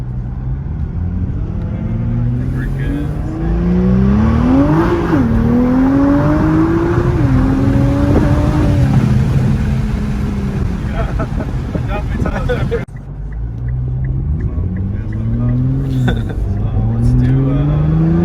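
Stock Nissan GT-R Nismo engine revving hard on a dyno, a loud continuous roar that climbs and falls through several rises in pitch, briefly dropping near the end before surging again, with people talking over it.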